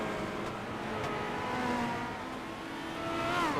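Race cars filing out of the pit exit in a racing video game, engines droning and rising in pitch as they accelerate away, fairly quiet and steady with a few cars overlapping.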